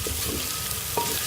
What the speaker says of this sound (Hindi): मैंने लहसुन और अदरक को अच्छी तरह से भून लिया है।